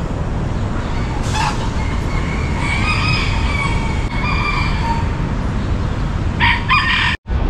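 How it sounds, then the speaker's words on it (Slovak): Roosters crowing outdoors in southern Florida, several long drawn-out calls running together over a steady background rumble, with a sharp brief knock near the end. "škrikajú tu kohúty"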